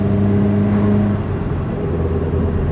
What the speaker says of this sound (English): It's just smooth through the box, totally smooth, and hovers around 2000 RPM exactly as the gearbox is supposed to work.